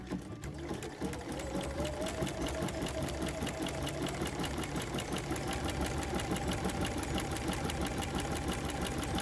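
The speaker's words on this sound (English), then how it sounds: "Scoot it down ever so slightly and sew some more." A sewing machine stitching applique runs steadily and close by, a continuous rapid mechanical whir with a fast needle rhythm and no voices.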